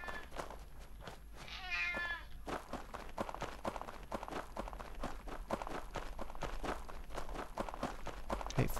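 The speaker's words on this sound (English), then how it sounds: "I hate following black cats." A black cat meows once in the video game SOMA, a short rising cry early on, followed by a steady run of footsteps that patter through the rest.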